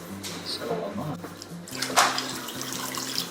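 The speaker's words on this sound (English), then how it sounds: "Fill this up all the way with water" Tap water runs steadily into a pot set for simmering chicken broth in a home kitchen, a close splashing stream with a brief louder gush near the end, under background noise.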